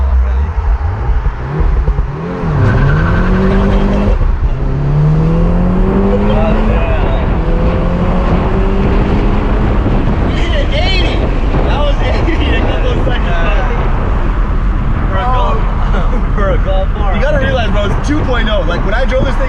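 A 2016 VW Golf R with traction control switched off launches hard in race mode, its engine note climbing through rising gear sweeps with a shift break, loud and close, mixed with wind and road roar.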